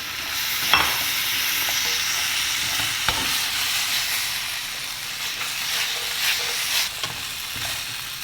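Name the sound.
tossing fried baby corn in a pan for Manchurian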